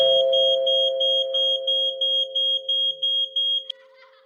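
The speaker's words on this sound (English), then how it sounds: "smoke detector" A smoke detector sounds a sharp, piercing electronic alarm in a fast, regular series of short pulses over a sustained tone, loud and close, then stops abruptly.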